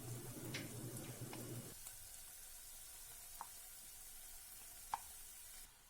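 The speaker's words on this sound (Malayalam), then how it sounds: "ഈ സമയം നമ്മൾ മസാല പുരട്ടി വെച്ചിരിക്കുന്ന ചിക്കൻ പീസസ് ഇതിലേക്ക് ചേർത്ത് കൊടുക്കാം." Marinated, masala-coated chicken pieces sizzling and frying in a hot pan, a steady crackling hiss that drops to a quieter simmer partway, with a few faint clinks.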